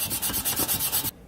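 Rust is scuffed off the transmission pan of a 1960 Cadillac Series 62 with about ten quick, rhythmic rasping back-and-forth strokes, close and fairly loud, then it stops abruptly.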